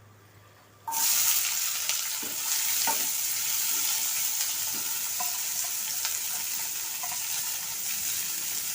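Chopped onion pieces hit hot oil in a pan for an egg and dried prawn bhurji, and a loud sizzle bursts in suddenly, then holds steady and close with faint crackles; no one speaks.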